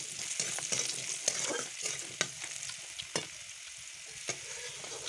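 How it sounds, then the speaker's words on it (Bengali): Potatoes frying in hot oil, a continuous bright sizzle with occasional sharp pops and clicks of stirring, moderately loud and close, no talking. "আলুগুলোকে যে দেখো তেলে ভেজে নিচ্ছি"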